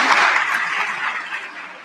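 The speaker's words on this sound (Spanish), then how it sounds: "Vamos a recibirlo con un fuerte aplauso." A conference audience gathered for a forum event gives a short burst of dense applause to welcome the speaker, loud at first and easing slightly toward the end.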